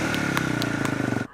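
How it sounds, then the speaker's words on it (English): A dirt bike engine idles and putters nearby at a beach for just over a second, a steady rhythmic chug that cuts off abruptly. "what's that noise? It's a motorbike."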